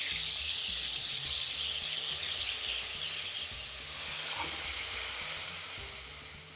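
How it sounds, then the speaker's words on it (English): Garlic and ginger paste fries in a hot pan, giving a loud, steady hiss and sizzle that runs unbroken throughout, with faint bubbling and a low hum beneath; nobody talks. "Fry that down for 30 seconds just to mellow out the garlic and take out those raw flavours"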